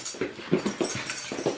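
A dog whimpers close by in a string of short, high whines and snuffles, repeated in quick uneven bursts with no talking over them.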